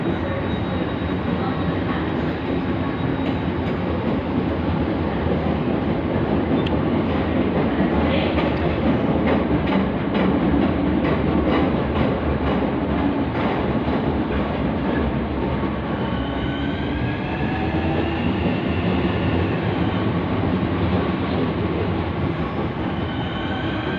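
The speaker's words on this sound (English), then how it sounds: "And there goes the Thameslink" A Thameslink train passes through London Bridge station with a steady loud rolling rumble of wheels and carriages, faint squeals and rattles rising over the sustained noise.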